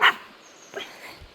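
A dog gives a short, sharp bark at a trash bin outdoors, then a few softer growling or whimpering sounds, all brief and close.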